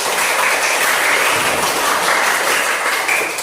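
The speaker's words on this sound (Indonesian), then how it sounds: "Tepuk tangan dulu." A classroom of students claps together, a dense, even wash of applause lasting a few seconds at close range with no talking over it.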